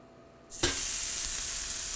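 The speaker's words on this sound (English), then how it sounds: "Now that's a sizzle, baby." Steak hits a hot indoor smokeless grill after a brief quiet moment, then an intense, steady hiss of sizzling fills the rest, loud and close.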